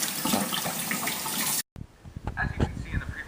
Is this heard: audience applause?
no